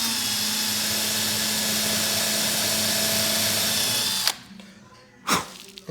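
A power drill bores a pilot hole for a screw in wood, whining loudly and steadily for about four seconds before cutting off, followed by a short burst of handling noise.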